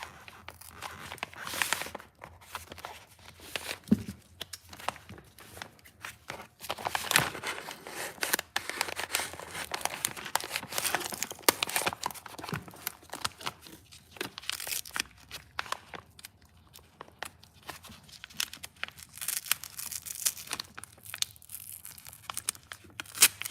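Crinkly tearing and crumpling of wrapping as a knife sheath is unwrapped and wrapped again, close and busy with irregular rustles and crunches throughout, no talking.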